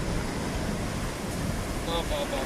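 Sea waves surging on Pakala beach, a dense continuous roar of surf with wind noise on the microphone, loud and close throughout the short stretch.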